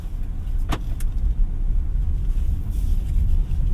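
A 2025 BYD eMAX 7 electric MPV rolls along with a steady low road rumble and tire hum heard from inside the cabin, a couple of faint clicks near the start, no speech.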